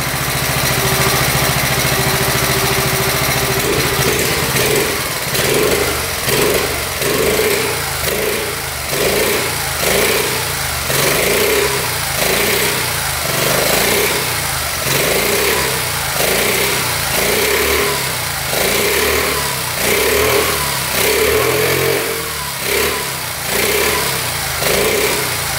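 A 45-year-old Honda Z50 mini bike's small single-cylinder engine idles steadily up close, with a series of regular rhythmic revs rising and falling throughout, loud and alone.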